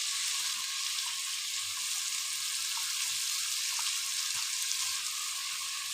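Grated onions frying in a hot pan while stuffed pigeon with freekeh is prepared, giving a steady, loud, close sizzle throughout with faint stirring clicks and no talk.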